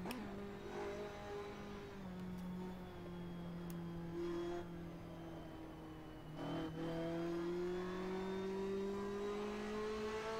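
A race car engine in the Assetto Corsa video game revs steadily, its note dipping briefly as it shifts into third gear and then climbing again as it pulls hard.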